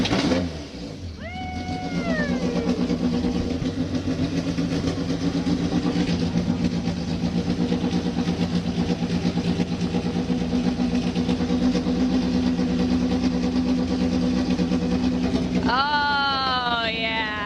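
A Mazda drift car engine revs loudly and close, its pitch climbing and falling at the start, then holding a steady rumble before a sharp rev at the end.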